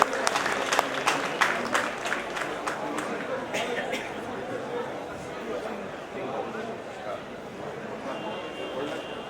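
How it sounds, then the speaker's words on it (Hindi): Crowd at the Renuka fair ceremony applauding, with sharp individual claps at first blending into sustained clapping and crowd chatter in an open outdoor setting, moderately distant. "कृपया जोरदार तालियां बजती रहे।"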